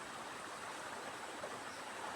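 Steady broadband rushing of flowing water, continuous and even throughout, like a river running nearby with no voices over it.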